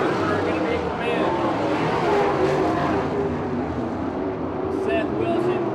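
360/410 sprint cars race at Victorville Raceway Park, a continuous loud engine roar with rising and falling revs as cars circle the dirt speedway, with an announcer talking over it.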